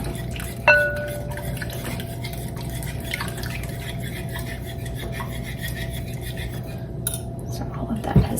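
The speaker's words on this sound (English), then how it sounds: "So I'm gonna start whisking this together." Eggs and melted butter whisked together in a bowl, a steady scraping and light clinking of the whisk against the bowl, close and continuous, with a sharp tap near the start and another at the end.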